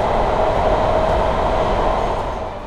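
A Gayrettepe–Istanbul Airport metro train runs at speed, up to 120 km/h, giving a steady, loud rumble with a faint sustained whine, holding constant and easing slightly at the end, with no voices.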